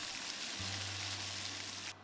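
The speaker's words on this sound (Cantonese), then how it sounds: "我自己呢，就喜歡將佢哋放落鐵板嗰度，每次當聽到呢啲咁嘅喳喳聲" Korean bulgogi beef sizzles on a hot iron plate, a loud, dense, continuous hiss with a low steady hum underneath, close up and with no voices.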